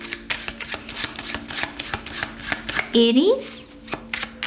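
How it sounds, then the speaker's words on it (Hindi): Tarot cards are shuffled in quick bursts of riffling clicks through most of the stretch, with a brief whistling tone near the end and a voice speaking faintly underneath. "तो चलिए शफल कर लेते हैं हम मेष राशि के लिए"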